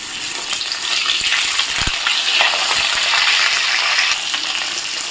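Pointed gourd and potato pieces sizzle and crackle in hot oil tempered with cinnamon and cardamom, stirred with occasional scrapes and clinks over a steady, close frying hiss.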